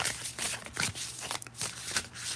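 Tarot cards from a Sphere of Heaven deck shuffled by hand, soft papery riffles and flicks in quick irregular bursts, quiet and close with no talking.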